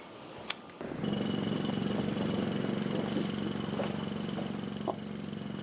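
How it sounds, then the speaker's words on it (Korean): After a brief quieter moment, heavy construction machinery starts up next to an English academy and runs steadily, a loud droning engine rumble with occasional knocks and clanks. "이게 무슨 소리고? 공사 소리 내가 말했잖아."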